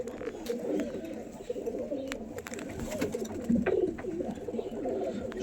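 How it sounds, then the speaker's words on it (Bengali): Flock of Andhra, rekdar and fulsira pigeons being handed over for delivery in Kolkata, cooing steadily in overlapping low throaty calls, close and continuous throughout. "এই যে পায়রা সব।"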